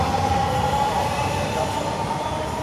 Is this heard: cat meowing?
no